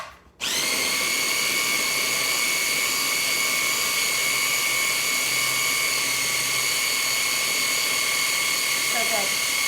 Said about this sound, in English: So let's pulse this up.